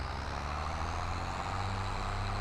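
Heavy truck engine in Farming Simulator, hauling a loaded bale trailer just after a downshift, a steady low rumbling drone with a constant hum and no pauses, close and fairly loud throughout.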